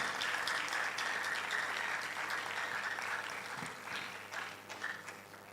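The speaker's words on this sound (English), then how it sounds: "All right, clap for him, clap for him." An audience at a national investment quiz semi-final claps for a Prempeh College contestant, a moderate, steady ripple of applause that thins out and turns patchier toward the end.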